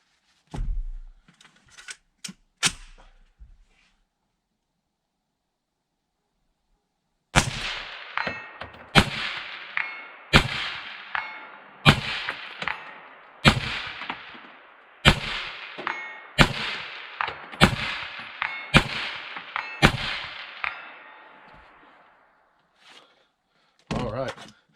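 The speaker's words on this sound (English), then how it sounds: "we'll take some shots at that 200-yard plate down there" A PSA JAKL 5.56mm rifle fires a series of about a dozen sharp outdoor shots at a 200-yard steel plate, spaced roughly a second or two apart, each followed by a ringing tail. A few quieter handling clunks come before and after the string.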